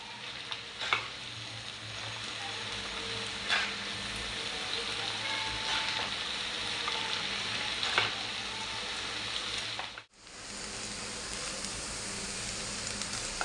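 Chinese noodles mixed with a fork in a hot pan, a loud continuous sizzle with occasional scraping clinks, close by, briefly cutting out near the end before resuming, without talking.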